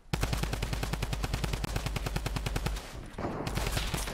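Video game gunfire in rapid automatic bursts, a dense, even stream of loud, sharp shots lasting around three seconds, a brief pause, then more fire continuing.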